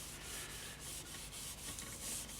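Gilt cream rubbed by hand onto the outer edge of a turned wenge wood platter, a steady close scratchy rubbing with soft rhythmic strokes and no talk.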